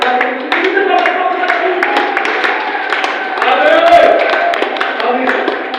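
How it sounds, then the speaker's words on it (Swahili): A church congregation claps together to welcome a preacher. The applause is steady and full, running under voices and singing for the whole stretch. "tupige makofi kwa ajili yako"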